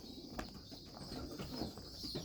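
Racing pigeons coo softly inside a loft, low murmuring calls layered over a steady hum of room noise, with no one speaking.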